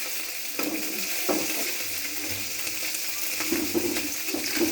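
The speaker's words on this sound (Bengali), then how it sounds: "আমি কাজ মাছটা কেমন ভাজছি দেখে নিন" Small fish frying in a pan, a steady loud sizzle with occasional stirring scrapes and clinks over the continuous hiss.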